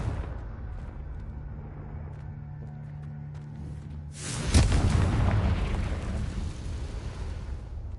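The Confringo fire spell erupts in Hogwarts Legacy, a sudden loud booming blast after a quieter stretch, followed by a sustained roaring rumble that slowly fades, with no talking.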